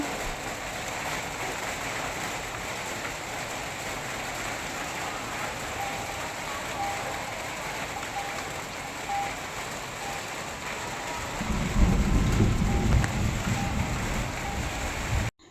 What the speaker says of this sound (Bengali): বৃষ্টির আওয়াজটা দেখো কীভাবে বৃষ্টি পড়ছে